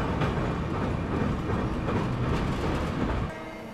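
An express train heard from aboard the Indore Daund Express near Pune rumbles steadily along the tracks while crossing another train, a dense, continuous roar and faint rhythmic clatter, close by, easing off slightly near the end.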